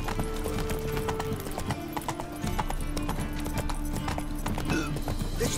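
Roach the horse running in The Witcher 3, hooves clip-clopping in a fast, continuous gallop close by, layered over game music.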